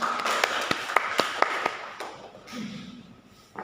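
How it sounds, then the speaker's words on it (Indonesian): A classroom applauding a student group: a handful of sharp, irregular claps close by that thin out after a couple of seconds, followed by a low murmur of voices. "silakan berikan aplaus untuk kelompok 4"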